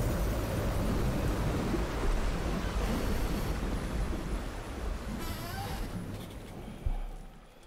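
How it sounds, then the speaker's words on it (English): Heavy rumble and broad rushing water in the fantasy role-playing game Pillars of Eternity, a dense, steady roar filling the scene, easing slightly toward the end with a brief thump near the close. "A heavy rumble stirs the ground, and from all around you comes the"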